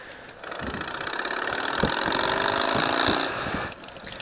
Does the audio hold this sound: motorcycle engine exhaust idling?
yes